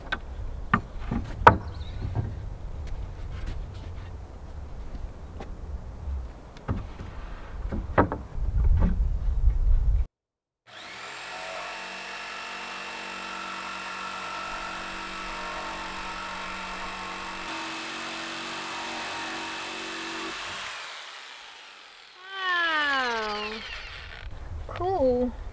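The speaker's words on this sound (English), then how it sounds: "I have a new jigsaw and I am going back to finishing the sink." A new corded jigsaw cutting material while finishing a sink in a guest house renovation, its steady motor buzz running for about ten seconds after a stretch of quieter handling noises, followed by higher whining sounds.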